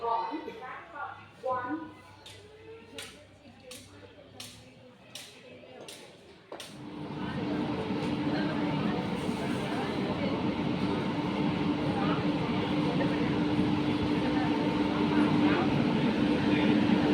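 Vaigai Express arriving at a station behind a WAP 7 electric locomotive, a rising broad rumble and hum that swells in after a series of sharp clanks, building to a steady loud roar as the train draws close.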